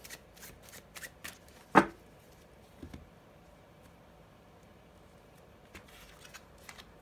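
Tarot cards are shuffled and drawn by hand, with soft close-up card handling, several light flicks and one sharp riffling snap, then quiet.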